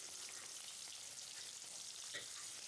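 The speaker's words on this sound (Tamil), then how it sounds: "இறாலை ஃப்ரை பண்ணிக்கிறேங்க" Prawns frying in sesame oil in a pan, cooked for a prawn pickle, give off a steady, close hiss of sizzling with faint crackles and one brief stir near the end, no voices.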